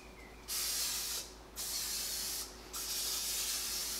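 Aerosol cooking oil hisses onto eggs in a pan in three separate bursts, each lasting about a second with short pauses between. The sprays are close and clear over a quiet room.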